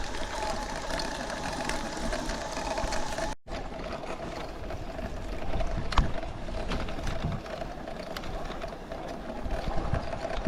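A TSDZ2B Tongsheng 52V 750-watt mid-drive electric bike motor whirs steadily during a ride, grown louder after striking a rock, blended with rushing wind and road noise and a brief dropout near the start.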